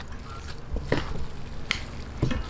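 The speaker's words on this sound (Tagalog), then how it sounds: "I-mix lang po natin mabuti hanggang magpantay-pantay." Cassava suman mixture stirred in a pan, soft squishy sizzling with a few scrapes and taps of the spoon, close and steady, with no talking.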